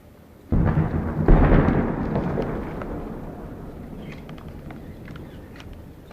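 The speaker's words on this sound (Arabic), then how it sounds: "قصف عنيف على بساتين الحجر الأسود" Heavy shelling strikes orchards in Hajar al-Aswad, Syria, in August 2012: a sudden loud explosion followed quickly by a second deep blast, then a long rumbling echo that slowly fades, with no voices.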